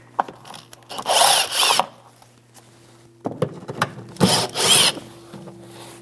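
A power tool fitted with a 10mm socket buzzes in two short bursts, pausing between, as it removes plastic fender liner fasteners on a 2015-2024 Jeep Renegade, with a low steady hum underneath.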